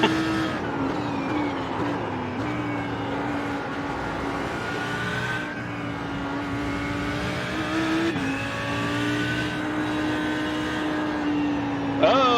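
A BMW Z4 race car engine in the iRacing sim drones loud and steady, pitch rising and dipping through shifts and braking, with someone talking over it at times.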